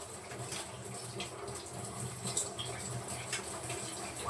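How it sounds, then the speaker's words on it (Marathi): A brush scrubs food processor parts under a running kitchen tap, producing a steady close splashing stream with brief brushy surges. "हा ब्रश ठेवला मी इथे, याने पटकन असं स्वच्छ करून घ्यायचं."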